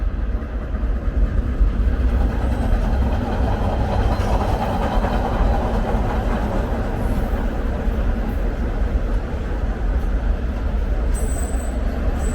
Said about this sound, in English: there's a train coming up on my right.